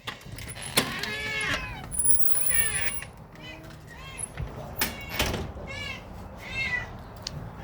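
A happy older cat named Confetti gives several short meows at close range, mixed with household clatter and a person talking nearby.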